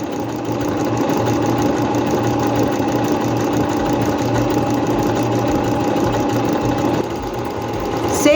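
A Singer C5605 electronic sewing machine stitches fabric from one edge to the other, a loud, steady, close motor hum with rapid needle chatter, briefly dipping before resuming.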